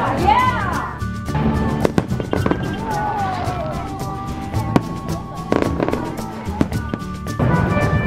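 Fourth of July fireworks at a show, heard from a parking lot: a steady barrage of crackling bursts and sharp pops with whistling rising streaks, loud and continuous, with voices in the crowd underneath.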